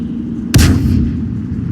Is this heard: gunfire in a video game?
yes